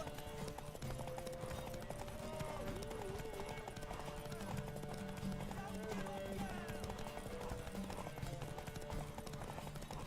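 Steady horse hoofbeats clip-clop throughout with a musical backdrop and occasional voices in The Witcher 3, continuous and moderately loud.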